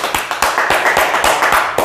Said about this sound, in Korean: 박수! 박수! 박수! 박수!